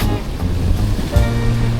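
Strong ocean waves crash and roll at La Union beach, a loud close roar of surf with wind buffeting the microphone, no voices.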